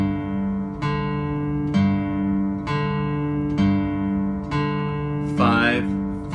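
Acoustic slack-key guitar picking a steady alternating bass pattern on the fifth and fourth strings, low notes plucked evenly about every second, with a brief higher slide near the end.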